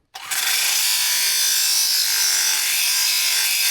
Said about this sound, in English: Good old finger sander.